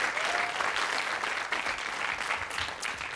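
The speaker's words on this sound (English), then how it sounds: "give her another round of applause as she goes back to her desk" Studio audience applause on the 1994 ITV game show Blockbusters, a dense, steady wash of clapping that runs loud and unbroken from start to finish.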